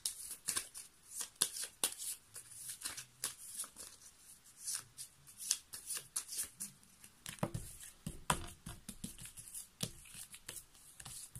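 Playing cards, likely a tarot-style reading deck, riffled and handled in a long run of quick papery flicks and slaps, close and steady with short pauses, no talking.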